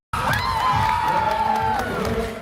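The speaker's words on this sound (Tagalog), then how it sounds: "Saan met anasayang ti iriyag ken palakpak ti Abra Solid North Weavers supporter ani Amil" Basketball supporters in an arena cheering loudly for their team, shrill shouts and whoops from a packed crowd, with a sustained high yell rising above the din and clapping underneath.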